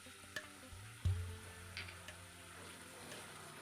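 Fish masala with coconut milk being stirred in a pan, a soft steady sizzle with light scraping and a couple of sharper clinks of the spoon against the pan, close by, with no talk.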